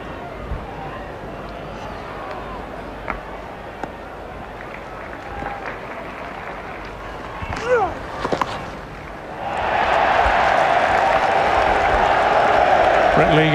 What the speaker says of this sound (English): Brett Lee gets a cheer from the crowd behind him in that corner of Edgbaston